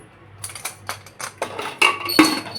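A string of sharp metallic clicks and clacks, irregular and close, as a pressure cooker lid is fitted and locked into place for cooking chicken.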